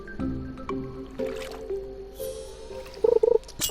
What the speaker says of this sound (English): the occasional sloshing of water